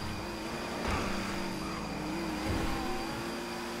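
A Pariah sports car engine in a GTA 5 race hums steadily with a couple of mild revving swells, moderately loud and continuous, with no talking.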